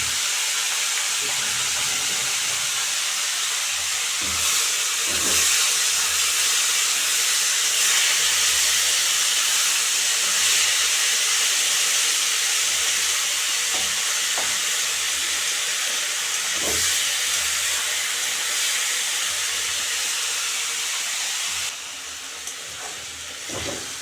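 Raw morola fish coated with turmeric and salt sizzles in hot oil in a pan, a steady loud hiss running without pause with a few soft clinks, settling slightly near the end.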